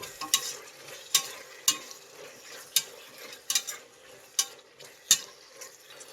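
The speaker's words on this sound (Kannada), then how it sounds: "ಇದು ಟೊಮೆಟೊ ಒಂದು ಸ್ವಲ್ಪ ಸಾಫ್ಟ್ ಆಗಬೇಕು, ಅಲ್ಲಿವರೆಗೂ ಮಿಕ್ಸ್ ಮಾಡಬೇಕು" Tomatoes with turmeric are stirred in a pan on the stove, with a soft steady sizzle under repeated scraping strokes of a spoon against the pan, close and fairly quiet.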